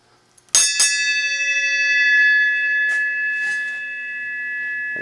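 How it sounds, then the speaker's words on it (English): A single bell in a home garage workshop is struck once and rings out with a bright, sustained metallic tone that decays slowly over several seconds, heard alone and close. "I'm going to ring the bell."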